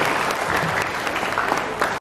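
Applause from a crowd of soldiers at an official address in North Maluku, steady dense clapping for about two seconds that cuts off sharply at the end.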